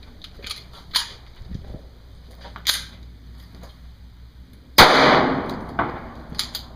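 A SCCY CPX-2 pistol fires at a reactive target. Sharp, sparse reports crack out at irregular intervals, with one noticeably louder and closer blast among several lighter pops.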